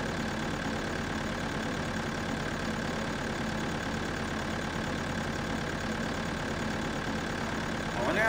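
Tractor engine idling in the Farming Simulator video game, a steady continuous mid-low rumble held throughout at a constant level, with a slight rise near the end.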